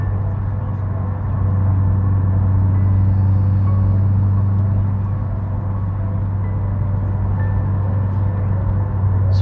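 A car on custom coilover suspension cruises the NKVE highway at 110 in moderate traffic, a loud, steady road and engine drone that stays even and unbroken throughout.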